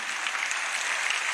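Audience clapping after a church lecture on the solemnity of Christ the King, a dense, even patter of many hands at a steady level from start to finish.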